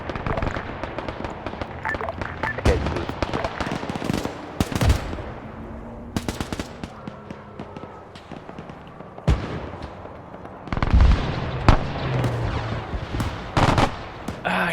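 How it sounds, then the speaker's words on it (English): Sharp cannon blasts and bursts of machine-gun fire from enemy tanks in a WW2 video game, irregular loud reports amid ongoing battle noise, some close and some farther off. "Two enemy tanks currently shooting north with friendly enemy"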